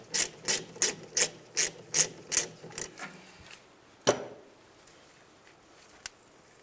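A ratchet clicks in about ten quick, even bursts while loosening the brake caliper bolts on a 2003-2011 Honda Element, close and distinct, then trails off into a single knock and faint handling sounds.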